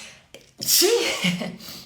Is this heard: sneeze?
yes